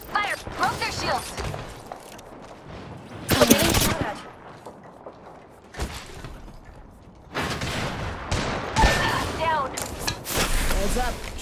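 Bursts of automatic weapon fire from the Apex Legends video game crackle loudly in several stretches, with rapid repeated shots and mechanical clicks between them, while a voice speaks over parts of the action.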